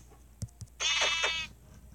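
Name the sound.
baby sheep bleating in the video game Minecraft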